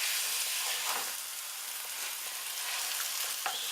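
Chicken frying in olive oil in a pan, loud and close, a dense continuous sizzle and crackle that runs through without a break, and no voices.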